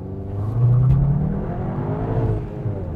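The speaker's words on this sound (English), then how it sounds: "why don't I just do no launch control this time and we'll just see how it goes off the line there" Four hatchbacks, a Toyota Corolla, Honda Civic, Hyundai i30 and Cupra Leon, launching off the line in a drag race, a loud blended engine roar that swells to a peak early, then holds steady as they pull away.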